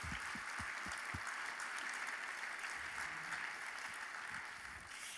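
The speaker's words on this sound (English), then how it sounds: "let's give a round of applause to the administrators" Sustained applause from a large audience in a conference hall at a CareerTech closing general session, steady and full throughout, with the room holding a dense wash of clapping from start to finish.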